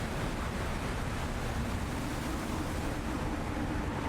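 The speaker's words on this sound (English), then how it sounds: "It seems to have been wind and not waves that I was seeing." Dust storm wind in the video game Myst V: End of Ages, an even, continuous rushing roar that holds steady at the same level from start to finish, with no talking.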